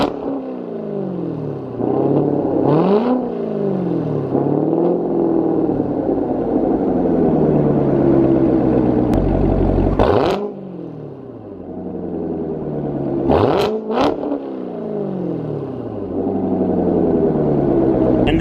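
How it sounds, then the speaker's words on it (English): A Chevrolet Corvette Z06 with a stock exhaust idles with a deep rumble, then revs sharply several times, the exhaust rising and falling loudly up close. "let's get some exhaust clips of the Z06"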